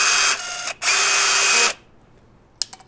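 A POP Avdel PB2500 battery-powered riveting tool sets a blind rivet: two close, loud bursts of motor whine with a brief break between them, then quiet, followed by a few faint clicks.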